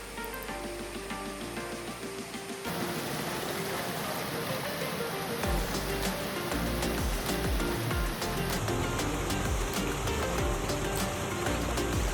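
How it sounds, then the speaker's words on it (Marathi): Akoli waterfall in Palghar, Maharashtra, where water falls from a height into dense forest, gives a constant broad roar and splash, loud and unbroken, with a stronger thundering rush from the middle onward. "उंचावरून कोसळणारं पाणी, सभोवताली दाट जंगल आणि निसर्गाची अप्रतिम कलाकृती"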